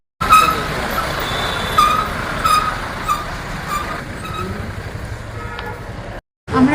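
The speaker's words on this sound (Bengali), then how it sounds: "এই ট্রেন, টয় ট্রেন।" Darjeeling toy train passing close in front of a hotel on a cold day, a steady loud rolling rumble with clatter and faint tonal squeals, cutting off abruptly near the end.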